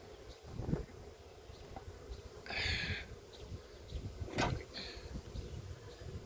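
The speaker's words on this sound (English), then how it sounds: "There's plenty of nurse bees everywhere." Honeybees buzz around an open hive during requeening of a queenless colony, a low continuous hum with a few louder passes of individual bees close by, faint and steady throughout.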